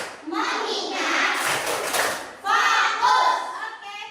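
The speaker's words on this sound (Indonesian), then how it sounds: "kita tepuk fokus dulu" A classroom of children performs a focus clapping routine, with voices chanting together over scattered hand claps and thuds, fairly loud and close.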